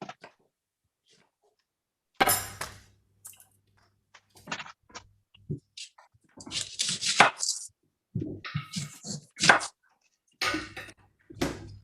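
Onions, including red onion, chopped with a knife on a board during pie making, giving sparse irregular clusters of close, crisp chopping taps separated by short pauses.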